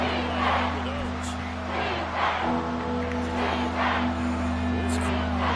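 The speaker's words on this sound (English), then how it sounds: "This crowd turning up the decibel level." A stadium crowd roars at an American football game against the Bucs, a broad, sustained wash of cheering running under a broadcaster's steady commentary.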